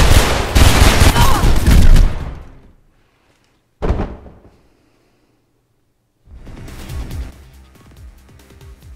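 A big gun fired by an enemy in Mirror's Edge roars in a loud sustained burst, drops to silence, cracks once more, then resumes as a rattling barrage after a pause.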